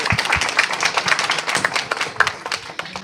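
Audience applause for caregivers at a community meeting with a congresswoman: a dense patter of many hands clapping at moderate volume, steady throughout with a few sharper individual claps standing out.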